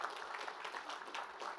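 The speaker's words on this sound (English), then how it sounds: "So round of applause for the UBS guys." Applause from an audience for the hosts at the DataVision 2026 EMEA event, a steady, fairly faint patter of many hands clapping throughout.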